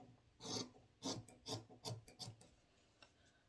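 Fabric for a fitted gown is cut with about six quiet, rhythmic rasping strokes, each a short rough swish close by, with near silence between them.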